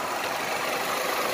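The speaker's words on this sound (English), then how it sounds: "we got engine fans running" Engine cooling fans on a 2011 Nissan Altima 2.5 whir in a steady broadband rush, close and constant, with no voices.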